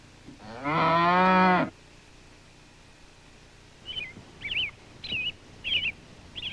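A single long, loud cow moo, followed after a pause by several short, high bird chirps at a distance.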